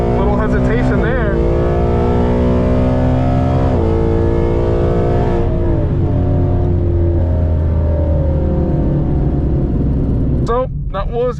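Drag race car Apollo making a pass: a loud, sustained engine roar with rising and shifting harmonics, steady and close throughout, dipping near the end as another brief burst of revving cuts in.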